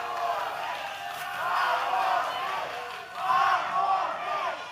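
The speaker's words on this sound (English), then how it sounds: "crowd chanting 5 more minutes" Wrestling arena crowd chanting in unison after a match ruled a draw, a loud rhythmic chant rising and falling in two swells, filling the space with massed voices.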